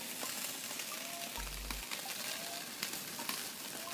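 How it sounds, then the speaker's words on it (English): Butter melting in a small pan set over hot outdoor grill coals gives a steady, even sizzle with scattered crackles and pops, plus one short low thump partway through; no one talks. "All we have to do is heat it up and melt the butter, and it's ready to go."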